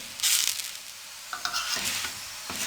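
A sabz channa paratha, a flatbread stuffed with green chickpeas, is flipped in a frying pan. Short bursts of sizzling and scraping come up close, with quieter gaps between them.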